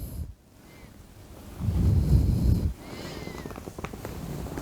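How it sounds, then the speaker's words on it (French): A house cat purrs up close, a low rumbling purr that swells loudest for about a second in the middle, with quieter breathy rustling and handling noise around it. "Tu ronronnes, mon petit cœur."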